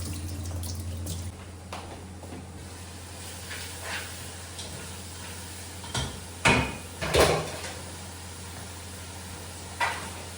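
A kitchen tap runs while hands are washed at the sink, a low steady water hiss with a few sharp clinks and splashes near the end, close and unaccompanied by speech.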